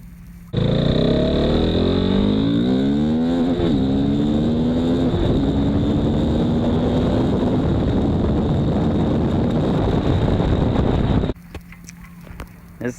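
A KTM Duke 390 motorcycle engine runs loud and steady for about eleven seconds, revving with rising and falling pitch before cutting off abruptly, leaving faint background noise.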